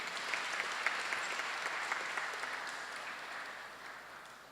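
Ceremony audience marking World Peace Day gives steady, moderately distant applause, a dense patter of many hands clapping throughout without voices.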